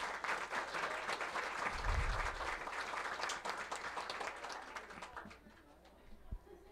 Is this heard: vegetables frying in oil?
no